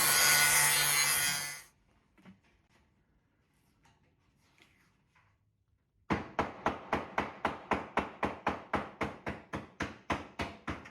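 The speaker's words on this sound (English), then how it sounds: "That stovepipe grinds down pretty good." A metal stovepipe being ground down during a woodstove install: a loud harsh burst at first, then a quiet pause, followed by a steady run of about a dozen rhythmic scraping strokes close by.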